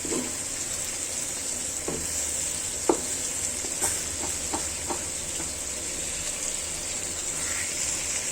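Steady frying sizzle of beef curry with turmeric, chili and garam masala, with occasional scraping clicks of a spoon stirring it in a pan, close and continuous, no talking.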